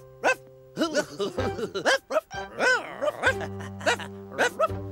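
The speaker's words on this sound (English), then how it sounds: "It sounds like... Puppies!" Several small, high-pitched yips and barks in quick irregular bursts, close by, with a steady tone humming underneath.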